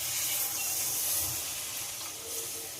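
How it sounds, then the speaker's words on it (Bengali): Water poured into a hot pan of fish head curry with potatoes sets off a steady, fairly loud hiss of steam and sizzling that persists throughout without speech. "এবার এতে জল দিয়ে দেব।"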